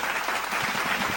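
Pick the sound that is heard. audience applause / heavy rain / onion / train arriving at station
audience applause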